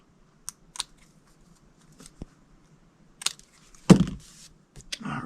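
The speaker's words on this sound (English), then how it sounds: "flip it over and just snip off all these extra pieces that are hanging" Scissors snipping excess paper pieces off a handmade Christmas slide puzzle treat box: a few faint, sharp isolated snips spread out, then a louder crunchy cut near the end, in an otherwise quiet room.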